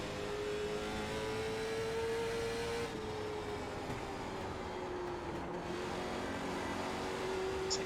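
A late model race car engine in iRacing drones steadily at high revs, its pitch sagging slightly and then climbing again, loud and continuous with no talk.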